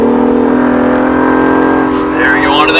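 An Acura NSX accelerates out of a corner on a race track, a loud, steady engine drone heard up close whose pitch rises and wavers toward the end.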